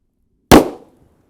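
A single sharp, very loud crack of a .45 Super 1911 pistol fired through a ported factory barrel at a shooting range, decaying quickly to silence.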